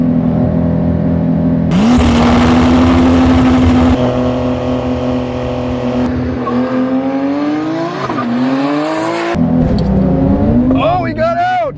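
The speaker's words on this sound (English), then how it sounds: "I'm engaging launch control now." A Porsche 911 GT2 RS and a 911 Turbo S launch hard from launch control, engines roaring and rising in pitch through gear changes, loud and close, with a person talking over the acceleration.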